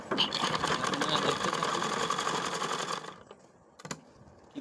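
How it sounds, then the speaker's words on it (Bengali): A sewing machine runs a fast, continuous stitch along the side seam of a small child's kurta, loud and close, then halts, leaving a few faint clicks and handling sounds. "আমি সংক্ষেপে একটি সাইড সেলাই করে আপনাদেরকে দেখিয়ে দেবো।"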